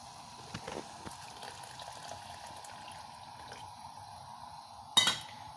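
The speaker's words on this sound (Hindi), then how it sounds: "ये बिल्कुल ठंडा पानी मैंने डाला है।" Cold water pours into a pot while Kashmiri pink tea is being made, a quiet trickle and splash in a kitchen ending in a brief louder burst of liquid.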